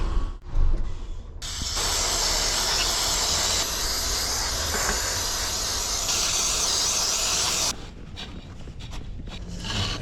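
An electric fuel pump on a car with a hairline crack is switched on, bringing a loud, steady hiss that holds for several seconds and then drops off, with a few knocks before and after.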